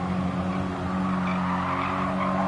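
A race car in Gran Turismo Sport brakes hard and skids, giving a continuous, loud tire squeal over a droning engine for the whole stretch, with no talk.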